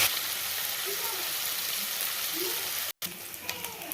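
Chopped onions fry in a pan of hot oil with mustard seeds, garlic and curry leaves, giving a soft, continuous sizzling hiss with a few light stirring clicks and a momentary cutout.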